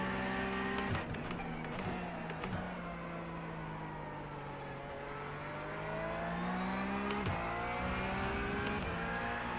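Race car engine in a sim racing video game, droning steadily and loud throughout, with the pitch climbing and dropping as the throttle is fed in, plus a few brief sharp shifts or blips.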